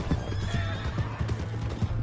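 A horse in Red Dead Redemption 2 gallops with rapid, close hoofbeats and lets out a neigh, brief and unaccompanied by talk.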